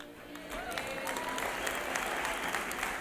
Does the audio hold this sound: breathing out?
no